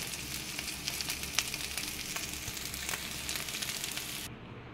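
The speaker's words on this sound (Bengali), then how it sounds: "এপিঠ ওপিঠ ভালোভাবে ভেজে নিচ্ছি" Mourola fish fry in oil in a kadai, giving a steady, fairly quiet crackling sizzle with scattered pops that continues evenly and then cuts off near the end.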